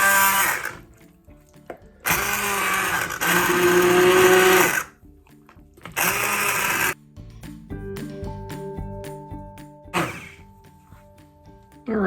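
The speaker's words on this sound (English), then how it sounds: "you can use the immersion blender like I'm gonna do" An immersion blender purees asparagus soup in a pot on the stove, whirring loudly in bursts of about two to three seconds with quieter clinks and pauses between them; no one talks.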